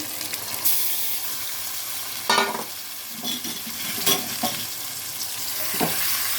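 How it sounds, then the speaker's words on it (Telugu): Chicken pieces sizzling in hot oil in a pan, a steady frying hiss with several louder bursts of sizzle and stirring clatter spread through the stretch, close and fairly quiet, with no talking. "నూనె పైకి వచ్చింది కదా, ఇప్పుడు చికెన్ ముక్కలు వేసేసుకుందాం"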